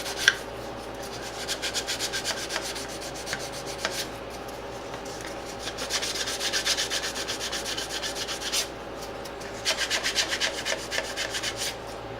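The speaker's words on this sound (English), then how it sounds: "you just keep on sanding until the surrounding plastic" Repeated abrasive rubbing strokes of sandpaper on a plastic model B-52 fuselage, worked in short bursts to smooth away raised dots, moderately close with a steady background hum and no voices.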